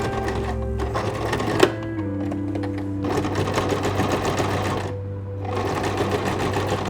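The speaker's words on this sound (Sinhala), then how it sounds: "මේකෙත් එහෙමයි සුදු පාට ෆෙල්ට් එක උඩින් කොළ පාට එක තියලා මේකේ වටේත් මැෂින් ලයින් එකක් දාගන්න ඕනේ" A sewing machine runs in steady bursts, stitching green felt onto white felt in matching thread, with a brief pause midway and a short click; loud, close and without speech.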